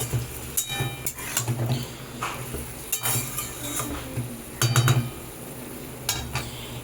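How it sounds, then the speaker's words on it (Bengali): Vegetables for a Bengali amudi fish dish are mixed with water in a cooking pot, with scraping and clinking of a spoon against metal in bursts, a soft sizzle underneath and no talking. "জল দিয়ে তারপরে ভালোভাবে এটাকে মেশাবো"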